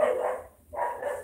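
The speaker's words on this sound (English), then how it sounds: "Oh my God! Excuse the dogs" Dogs bark twice in close succession, each a short, loud burst separated by a brief pause.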